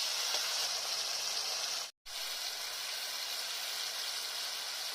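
Salted strips of ridge gourd and potato fry lightly in oil, making an even, close broadband sizzle that runs unbroken except for a brief cut to silence midway.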